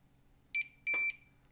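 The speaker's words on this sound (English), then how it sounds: "I've got a meter set up to beep." A multimeter set to continuity mode beeps during circuit testing on a wound toroid board: a short high tone, then a longer steady beep with a click at its start, clear against a quiet background.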